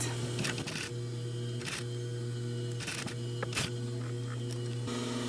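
Sewing machine working on a jeans zipper fly, a steady motor hum with intermittent mechanical clicks and short stitching bursts, close by.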